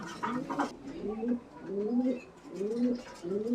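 A pair of fancy pigeons gives repeated low cooing calls in an even rhythm, four or five rolling phrases close by, with a brief bit of background noise at the start.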